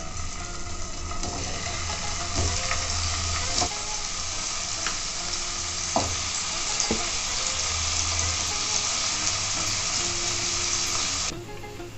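Paneer fries in hot oil in a pan, giving a continuous loud sizzle and crackle close by, with occasional sharp pops and clinks as the pieces are stirred.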